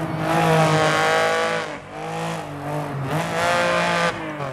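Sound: Lancia Stratos rally car engine and tires, video game DiRT 4

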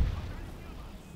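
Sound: cannon fire, from a video game

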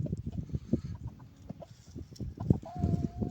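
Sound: rooster clucking

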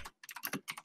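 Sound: loud computer keyboard typing

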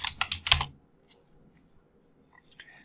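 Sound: typing a web search on a computer keyboard

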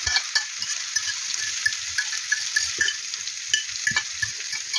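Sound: cauliflower poured into a hot pan with olive oil, frying

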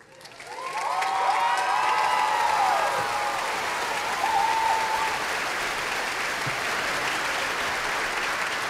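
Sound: graduation audience applause

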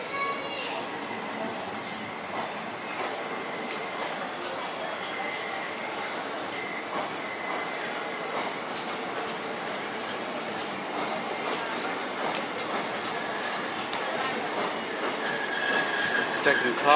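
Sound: long train passing

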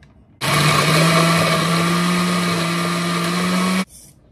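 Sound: blender grinding guaje and cilantro

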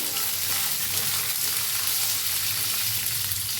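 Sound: amla (Indian gooseberry) roasting in a pan

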